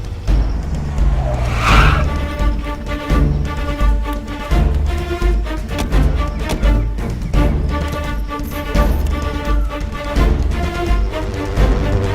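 A car skids and squeals its tires to a halt in a Malayalam movie scene, loud and close over a steady engine roar, with a sharp screech near the start and continuing rumble afterward.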